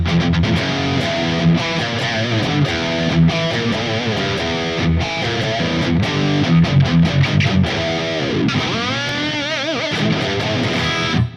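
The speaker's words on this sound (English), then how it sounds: "This is a really simple distortion sound without anything. There is only a reverb. It's a plated reverb" Heavily distorted electric guitar through an amp preset modeled on a Mesa Boogie Mark IIC+ plays chords and bending notes in a continuous riff, washed in plate reverb, with no other instruments.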